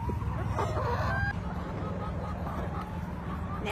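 Backyard chickens clucking and squawking close by in a busy, overlapping chorus while a person talks among them.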